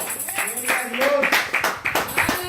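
A church congregation at a Spanish-language evangelical service claps hands together, a dense rhythmic patter of many hands mixed with voices calling out.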